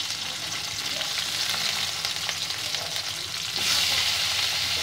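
Chopped garlic, ginger and onion fry in oil in a pan. The sizzle is loud and close and stays steady, with stirring scrapes, and it grows a little louder near the end. No one speaks.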